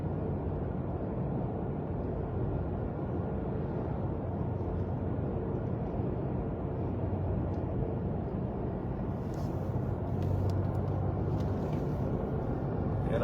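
A manual stick-shift car cruises along a road in Port St. Joe, Florida, the morning after Hurricane Helene, its steady low engine and tire rumble filling the cabin without pause and with no one talking.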